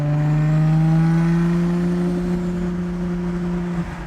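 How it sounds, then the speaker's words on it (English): A 700 hp Nissan Skyline GTR R32 street car with a loud engine holding a steady, strong drone and a whistling turbo spool, close and without talk, easing slightly near the end. "Turbo spool's really nice."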